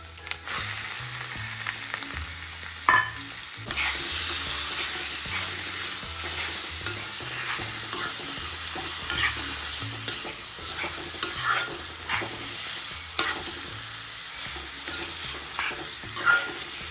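Prawns stir-frying with grated onion in a pan over medium heat, a steady close sizzle with repeated scraping and stirring strokes throughout.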